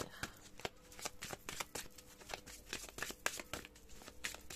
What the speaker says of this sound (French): On va tirer des cartes.